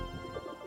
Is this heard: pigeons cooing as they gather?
yes